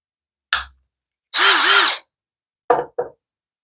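A power drill with a drive bit sets a 1¼ inch screw into plywood: two quick blips, a sustained whirring drive of about half a second, then two short final bursts, close and loud.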